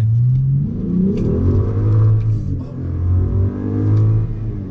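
BMW M5 or 535i car pulling away hard from a standing start, engine rumbling and climbing in revs through gear changes, loud and close inside the car, with no talk.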